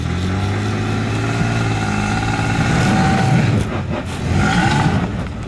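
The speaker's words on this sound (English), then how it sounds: "As the revs increase, the traction control system makes a timid attempt to spin the loaded wheels" An SUV engine revs hard and holds high, with a rougher, grinding stretch toward the end as the wheels strain and spin on rocks.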